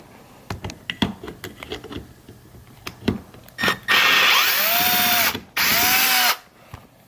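Torx screws being removed from seat trim on a BMW E90, with sharp scattered ratchet clicks and clatter, then two loud sustained bursts of whirring power-driver motor, nearby, with no talking.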